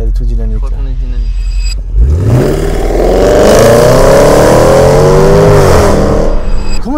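A Range Rover Sport SVR engine revs up in dynamic mode with a loud rising roar, holding a strained, throaty note before easing off; a voice is heard briefly beforehand.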